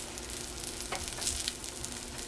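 A bean patty fries in vegetable oil, giving a soft, steady sizzle with a few brighter crackling bursts, close up and quiet, with no voices.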